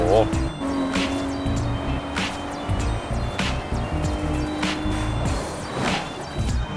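BMW M4 Coupe engine in the racing game Forza Horizon 4, a steady loud in-game motor drone with brief crash and impact bursts, excited voices talking over it throughout.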